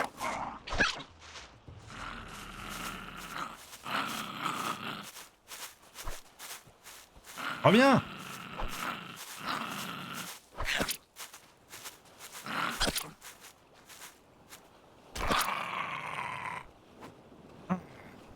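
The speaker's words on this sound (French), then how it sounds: "Un chien aux oreilles courtes. Ah, c'est un chien?" A short-eared dog in a survival video game barks and growls in a few bursts amid game ambience, with footsteps and someone speaking French over it.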